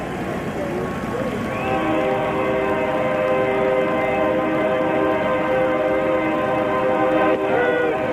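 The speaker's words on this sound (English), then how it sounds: "And the train whistle drowned out by the fans here in Seattle." A train horn sounds in long sustained tones near a Seattle baseball stadium during a 2001 playoff game, partly buried under a steady roar of the stadium crowd and a play-by-play commentator's voice.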